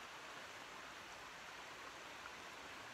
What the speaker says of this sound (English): Had a nice stream here.